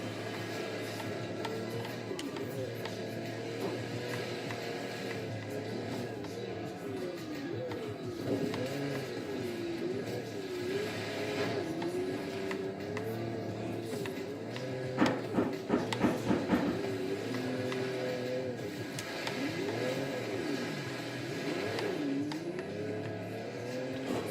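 Audi Quattro engine in the racing game Forza Horizon 3 on a snowy mountain course, a steady droning engine note that rises and falls with gear changes and corners, with a rougher burst midway through.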